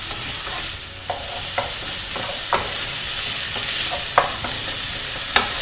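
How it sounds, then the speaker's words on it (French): Chorizo and minced garlic fry in a pot for a one-pot pasta with seafood, a steady close sizzle broken by a few sharp stirring clacks and scrapes, with no talk. "Je vais ajouter maintenant le chorizo que je vais faire également revenir 30 petites secondes"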